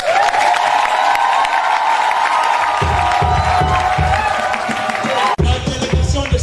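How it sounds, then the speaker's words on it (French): A large crowd cheers, whoops and applauds loudly for the Yaoundé delegation at a church ministry gathering, a dense sustained roar of clapping and shouting that briefly breaks and then surges again. "je voudrais déjà que vous acclamiez pour la délégation de Yaoundé"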